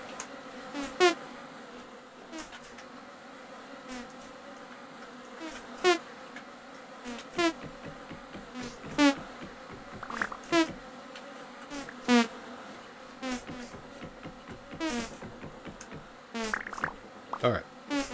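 A swarm of bees hums around a hive in the Vintage Story video game, a low steady buzz lasting throughout, with periodic clicks and someone talking quietly over it.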